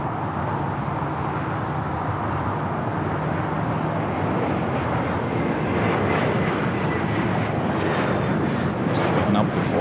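A heavy cargo aircraft takes off from runway 25 right at Los Angeles International Airport, giving a steady, broad engine roar with a distant, sustained rumble, while radio chatter plays over it.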